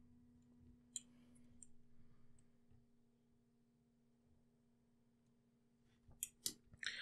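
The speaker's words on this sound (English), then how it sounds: "So let's go ahead and cut these bad boys." Small snips of scissors or wire cutters trimming quadcopter motor wires short, a quiet click near the start and then a cluster of sharp cuts near the end over a faint steady hum.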